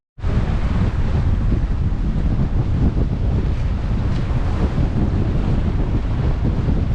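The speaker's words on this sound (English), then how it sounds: "The wind is blowing 35 knots." Strong wind of about 35 knots roars at sea along Iceland's north coast during a solo night sail, a loud unbroken buffeting rush with wind noise over the microphone and surf beneath, with no voices.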